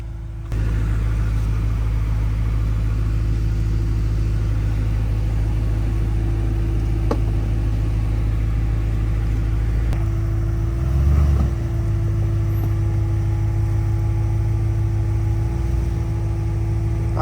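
A diesel Jeep Gladiator idles and crawls up an off-road trail, its steady low engine drone constant and close, with a brief swell in revs partway through and a faint whine underneath.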